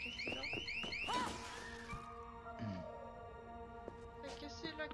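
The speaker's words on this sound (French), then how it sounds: "j'ai déclenché une alarme." In Dead Island 2, glass breaks at a wine cellar and sets off an alarm that wails in repeated rising electronic sweeps, with a crash mixed in and steady tones after it, all under a player's speech.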